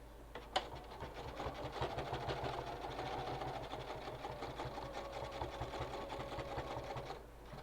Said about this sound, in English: I might as well continue stitching 1/8 of an inch